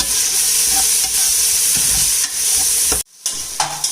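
Egg biryani masala sautéing in a pressure cooker, a steady close sizzle with scraping stir strokes throughout, briefly cutting out near the end before resuming.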